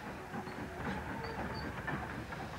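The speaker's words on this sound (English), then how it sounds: "the electric locomotive was moving out of its siding back onto the London-bound train" Low rumble and faint rhythmic clatter of an electric locomotive rolling slowly along rails out of a siding, distant and quiet, with soft hiss on top.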